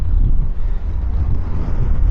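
Strong gusts on a mountain top overlooking the Tetons batter a lavalier mic, a loud, low buffeting roar that surges and dips continuously, with no talk.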